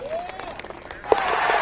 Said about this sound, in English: Crowd goes wild after that eagle